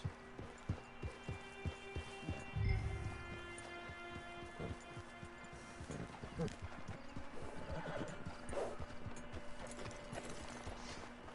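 Horse in a video game whinnying amid a steady run of clip-clopping hooves and mechanical clicking, with game ambience and a voice talking over it.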